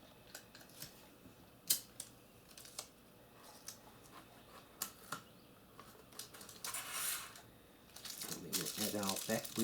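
Tape is pulled and torn to fix a straw to the body of a small model lunar rover, a series of sharp close rips and crinkles with a longer ripping stretch near the end.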